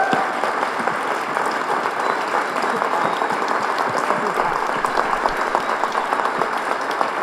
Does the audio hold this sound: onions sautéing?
no